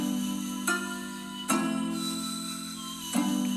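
Beat built in FL Studio, three Eastern-style sounds layered together: a dense sustained drone-like bed with bright melodic lines on top and a few sharp accents marking the changes, steady and loud with no talking.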